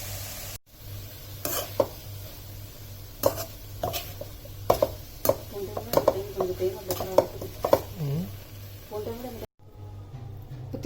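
Grated coconut being stirred into banana flower poriyal in a pan, heard as repeated close scraping and clattering spoon strokes against the pan over a low hum, with a person talking throughout.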